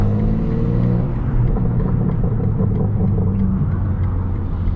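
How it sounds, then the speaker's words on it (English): A BMW G80 M3 drives at night in Toronto with a loud, steady engine rumble and road roar, holding a continuous low drone from start to finish with no talking. "this car is so fun to drive"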